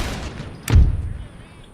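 A single heavy artillery boom from a cannon in Empire Total War, loud and close with a deep low rumble that fades over about a second against quiet ambience.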